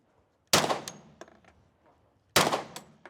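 Two loud, sharp gunshots ring out about two seconds apart, each followed by a short echoing decay and faint rattles in between.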